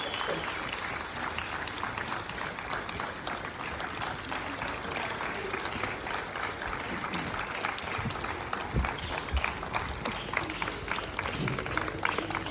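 Dense applause from a large audience at a summit, steady and sustained throughout, with a crowd murmur underneath.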